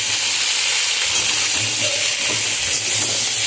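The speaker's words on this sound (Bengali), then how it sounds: "লাল লাল করে ভাজবো এটাকে" Fish and cauliflower frying in plenty of oil in a pan over a home cooking stove, a loud, steady broadband sizzle close by with a low hum beneath.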